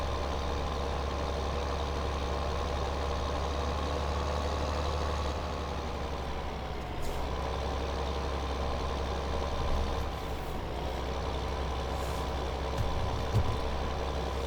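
A tractor engine in the video game Farming Simulator 2015 runs with a steady, low idling drone that stays even and unbroken throughout, with no talking.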